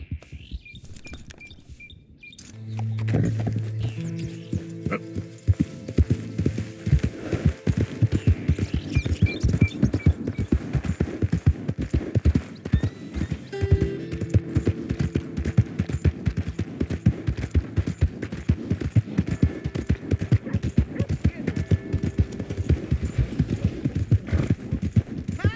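Horse hooves clip-clop steadily on the ground in Red Dead Redemption 2, a close, continuous rhythmic trot that carries on for the whole stretch under layered game sounds.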